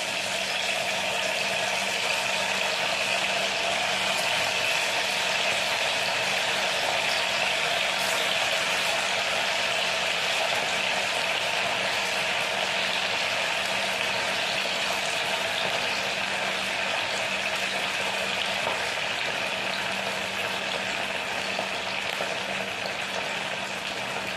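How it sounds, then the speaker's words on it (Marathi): Bhagar medu vadas frying in hot oil, a steady even bubbling hiss that holds without a break at close range, with no talking. "आता दुसरे टाकून घेते मी ते, जे दुसरे बनवलेत ते, आणि तेही तळून घेते."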